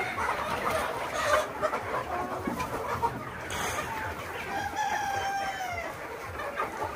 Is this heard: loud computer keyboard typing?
no